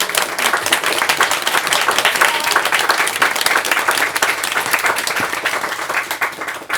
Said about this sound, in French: je vous demande d'accueillir et d'applaudir